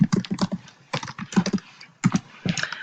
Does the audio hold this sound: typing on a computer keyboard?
yes